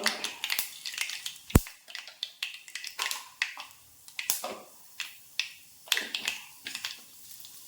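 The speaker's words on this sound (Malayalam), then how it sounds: "ഉലുവായും പൊട്ടിയിട്ടുണ്ട്" Fenugreek seeds pop in hot oil in a pan: sharp, separate crackles and snaps in an irregular rhythm, close and fairly loud, with one especially strong crack early on and no voices.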